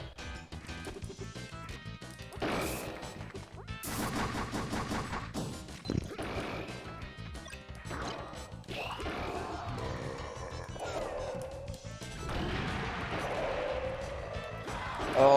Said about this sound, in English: All those explosions.